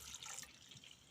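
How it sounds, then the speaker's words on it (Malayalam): Half a glass of water poured into a cooking pot, a brief soft trickle and splash, faint and close. "ഒരു 1/2 ഗ്ലാസ് വെള്ളം ഒഴിച്ച് കൊടുക്കുവാണ്."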